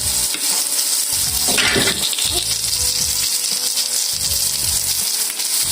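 Liver sizzles and crackles loudly in a frying pan at close range, a continuous hissing fry with occasional stirring or turning sounds throughout.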